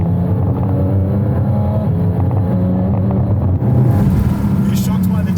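A Porsche GT4 sports car's exhaust drones loudly and continuously, rising in a throaty rumble near the end, with wind noise and some talk underneath.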